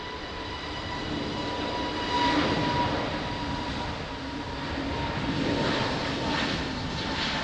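An Italian Air Force aircraft at Lisbon Airport gives a steady, fairly loud engine roar that swells and eases slightly as it passes, with no talk over it.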